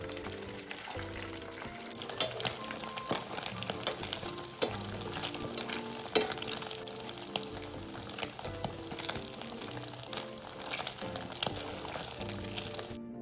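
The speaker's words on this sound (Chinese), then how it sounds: "以相同的步骤，将剩余的豆腐油炸至全部完成。" Otak-otak tofu pieces deep-fry in hot oil, with a steady crackling sizzle broken by frequent small pops and clinks, moderately close and with no talk.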